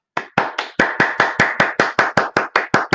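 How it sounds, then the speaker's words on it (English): A pair of hands clapping in a steady, even rhythm, about a dozen sharp claps close by, with no talking. "now let's go ahead and clap"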